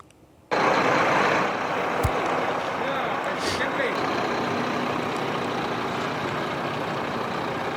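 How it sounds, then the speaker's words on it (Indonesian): A bus carrying the Iran national football team arriving in Tijuana, Mexico, under security escort; a loud engine rumble rises suddenly and stays steady, with a brief thump and a hiss like an air brake, voices audible beneath. "Inilah bus rombongan timnas Iran tiba di Tijuana, Meksiko dengan pengawalan dari pihak keamanan setempat pada Minggu pagi."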